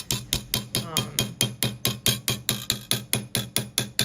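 A hammer strikes metal again and again in a steady, even rhythm, about four blows a second, each a sharp close ring, with no voices over it.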